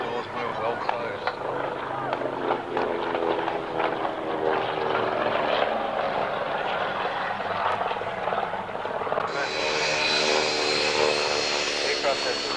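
Loud droning roar of a vintage twin-engine propeller aircraft, with the same engines as a B-25 Mitchell, passing close at an air show, steady and throbbing, with a voice talking underneath and the pitch shifting near the end.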